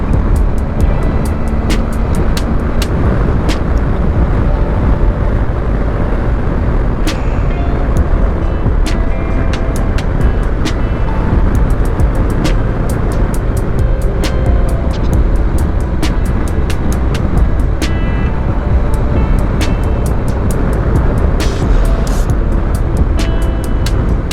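A 2023 BMW R 1250 GS Adventure motorcycle on the move gives a constant loud roar of engine and wind, with scattered light ticks and buffeting throughout.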